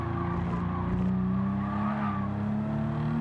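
A Toyota GR Supra RZ '20 at Fuji in Gran Turismo 7, its engine droning steadily while the tires give a sustained squeal as the car slides through a corner, loud and continuous.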